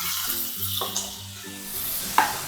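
Chopped onion and small tomatoes fry on a medium flame for tomato chutney, giving a soft sizzle. A couple of sharp scrapes from stirring in the pan stand out near the end.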